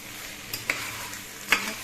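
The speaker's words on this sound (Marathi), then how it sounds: "छान असं थोड्या तेलामध्ये आपल्याला परतून घ्यायचं सगळं" Chopped tomatoes sautéing in a little oil: a soft steady sizzle with a few brief scraping stirs of a spoon in the pan, close and quiet.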